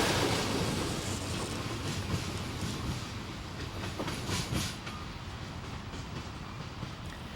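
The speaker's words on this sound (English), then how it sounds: "As the California Zephyr leaves, notice the Union Pacific steam engine on the right" A California Zephyr passenger train pulls away on Union Pacific's Donner Pass route, a steady broadband rumble with rail clatter and wheel noise that slowly eases off, with no voices.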